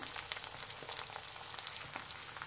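Beaten eggs sizzle in hot oil in a pan, seasoned with black pepper and salt. The frying gives a faint, steady crackle with soft spitting pops and no voices.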